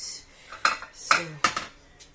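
A knife chops onions small on a board, with three or four crisp, close knocks and clinks spaced unevenly across a couple of seconds.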